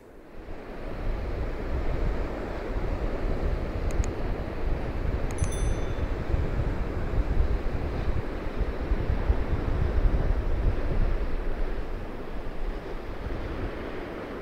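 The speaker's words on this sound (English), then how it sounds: "I hope the wind isn't disturbing too much" Strong wind gusts across a coastal dune on the Danish west coast, roaring and buffeting the microphone in a dense, continuous low rumble that swells and eases without pause.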